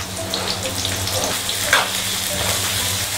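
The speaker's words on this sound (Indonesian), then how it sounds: "kita tumis dulu bawang yang telah dipotong ni" Chopped onions sautéing in a pan for a bone soup, a steady close sizzle with faint stirring and a clink, under low background noise.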